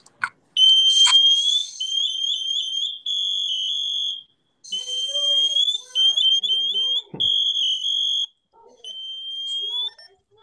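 A firefighter's motionless-alarm device on protective gear sounds repeated loud shrill electronic beeps and warbling chirps in bursts with short gaps, rising to a full alarm, close by and alone.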